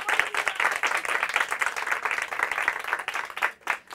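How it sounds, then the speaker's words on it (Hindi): Audience applause for the winning school team at a Hindi quiz competition, a dense, steady burst of many hands clapping that tapers off near the end. "जोरदार तालियां हो जाए इनके लिए।"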